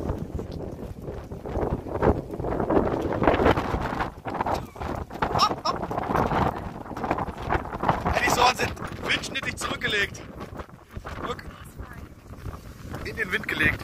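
Strong wind buffets the microphone outdoors during dog training, a continuous rough roaring rumble with gusts, while people talk underneath.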